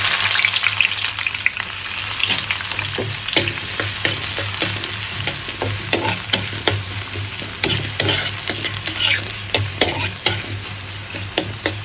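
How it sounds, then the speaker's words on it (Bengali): Spice paste frying in hot oil in a wok sizzles loudly and continuously while a spatula scrapes and clacks in a busy, repeated stirring rhythm throughout. "তেল দিয়ে দিয়েছি, কড়াই গরম হয়ে গেছে, পেস্টটা দিয়ে দিলাম।"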